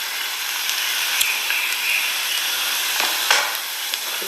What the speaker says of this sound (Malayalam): ക്യാരറ്റ്, ബീട്രൂട്ട്, പച്ചമുളക്, ഇഞ്ചി, പയറ്, ഉരുളൻകിഴങ്ങ് ഇതൊക്കെ കൂടി നെയ്യും വെളിച്ചെണ്ണയിലും വഴറ്റിക്കൊണ്ടിരിക്കുകയാണ്